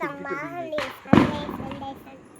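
Diwali firecrackers burst outdoors during a festive night, one sharp bang standing out among fainter pops while several people talk and call out close by.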